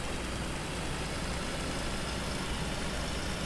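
A Sunrise Fire Rescue fire engine's pump-panel engine runs as the truck revs to show pump pressure, giving a steady, low, broadband drone throughout.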